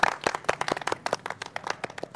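A small group claps hands in uneven, close, sharp claps that keep going steadily for a couple of seconds, with no talking.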